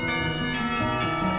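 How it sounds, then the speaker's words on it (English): A school lunch bell in Katawa Shoujo sounds as a sustained, ringing tone with a few repeated strikes, steady and fairly loud, with no talking. "The lunch bell rings, signaling a return downstairs."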